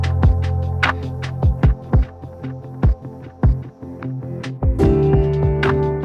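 A piano soundscape runs through Echo Boy delay, with a dotted-eighth repeat on one side and an eighth on the other. Sustained chords are punctuated by sharp struck notes and echoing repeats over a continuous droning bed.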